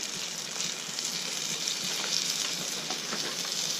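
Shellfish and mussels warm in a pan with extra butter, sizzling in a steady, even hiss at moderate distance with faint popping throughout.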